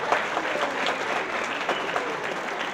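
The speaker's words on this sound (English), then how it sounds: "Give him a big round of applause." An audience at a senior event claps steadily for Mr. David Gill, a continuous, moderately loud patter of many hands filling the room without talk.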